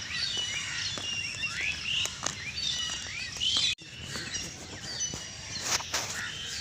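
Many birds chirp and call at close to middle distance during an outdoor morning walk, with quick overlapping tweets and some insect or frog-like trills over a steady background, one brief break midway.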